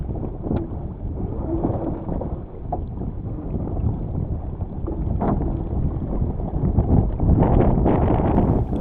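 Heavy wind buffeting a sailboat under way in strong weather, a steady loud roar of wind noise over the microphone with water rushing, gusting stronger toward the end.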